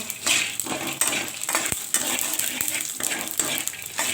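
Panch phoron spices frying in oil for a Bengali vegetable dish give a steady sizzle, mixed with repeated scraping and clinking of a spoon stirring the pan, close and alone.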